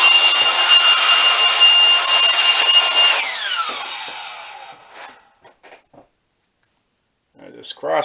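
Blowing dust out of a lathe cross slide in a home workshop makes a loud, steady air hiss for about three seconds. It then tapers off into a few faint clicks and handling noises.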